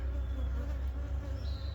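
Honey bees drone around a hive in a steady, close, continuous buzz that hums on without pause or voices.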